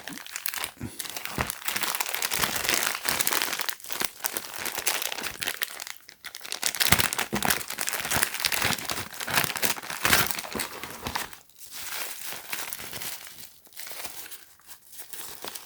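A plastic Ziploc bag holding an emergency sleeping bag crinkles and crackles close up. The loud, continuous handling comes in irregular bursts with short pauses.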